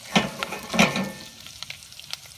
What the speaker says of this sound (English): That's not really simmering, that's more like boiling.